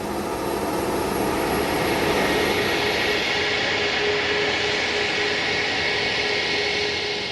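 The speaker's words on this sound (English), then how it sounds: "Air France's Paris-bound Concorde departure is already negotiating the web of complex taxiways at Kennedy" Concorde supersonic jet engines roar steadily at JFK airport, a loud, sustained broadband rumble and hiss from the taxiing aircraft with no one speaking.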